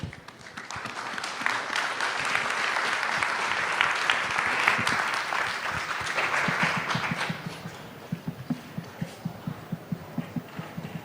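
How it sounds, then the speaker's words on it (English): Audience applause for panelists at a digital health governance forum: a dense, sustained wash of many hands clapping for several seconds, thinning toward the end into a few scattered, distinct claps. "Can we give them another round of applause, ladies and gentlemen?"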